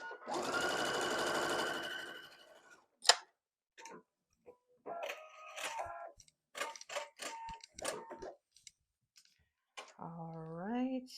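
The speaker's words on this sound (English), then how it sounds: "And then we're going to sew down the edge." A sewing machine runs in one steady two-second burst while stitching down the edge of a quilt block. Scattered clicks and handling noises follow, and a short rising tonal sound comes at the end.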